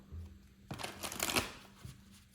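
Close, crisp riffle of a tarot deck being shuffled in a single short burst, then a light tap, over a faint background hum.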